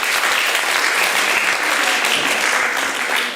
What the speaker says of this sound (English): Let's hear the applause one more time.